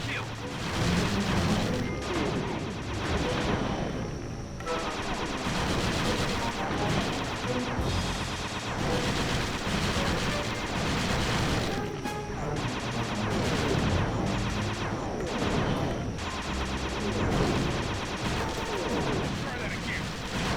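A rusty pre-war turret in Sly 2 firing at incoming enemy missiles, with dense rapid bursts of booming shots and crashing explosions that pound continuously over game music, loud and close.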